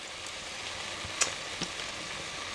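Onion frying in a pot, a steady low sizzle with a few soft stirring clicks and one sharper tap near the middle, close and moderately quiet with no voices.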